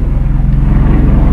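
A helicopter flying overhead outdoors, a loud continuous low rotor thrum with a faint pulsing beat, dominating throughout with no talk.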